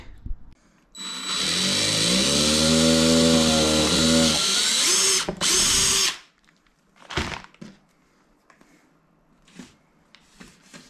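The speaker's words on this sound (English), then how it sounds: "I'm just going to take the backboard away now and just drill some holes." A power drill whirs loudly for about five seconds boring holes in a sign backboard, its pitch shifting as it bites in, then stops, followed by a few faint clicks and knocks.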